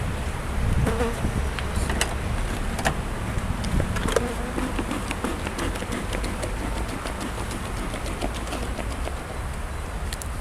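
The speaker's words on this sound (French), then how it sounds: "les abeilles, quand on les enfume, pensent que c'est un incendie" A dense, steady buzzing of many honeybees swarming close by as the hives are smoked, continuous and unbroken throughout with no voices.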